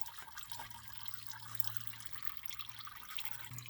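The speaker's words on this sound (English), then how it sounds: "As soon as this is done draining, we can take off the oil filter." Engine oil draining from the oil pan of a 2011-2019 Ford Explorer 3.5L V6 during an oil change, a soft steady trickle and drip of liquid, faint and continuous with no talk.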